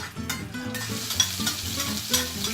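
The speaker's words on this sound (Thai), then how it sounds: "ส่วนไฟนะครับผมที่เราจะเจียวนะ เป็นไฟอ่อนนะครับ" Ingredients frying over low gas heat in a pan while holy basil stir-fry is prepared, a steady sizzle with repeated stirring scrapes, fairly close and with no talk over it.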